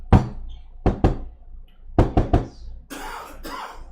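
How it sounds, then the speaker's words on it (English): A patterned knock on a wooden door, a single rap then paired and triple knocks in an irregular rhythm, close and fairly loud, followed by rustling. "Kiriturian does a special knock."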